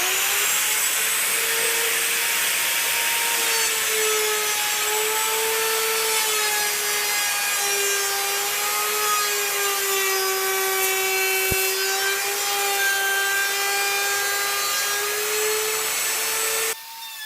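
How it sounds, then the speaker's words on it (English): A wood router cuts out a sink opening along a template, giving a loud, continuous high whine that holds steady for about seventeen seconds before cutting off abruptly. "As you're routing this out with the template, always make sure to keep the top bearing of the router bit pushed up firmly against the template"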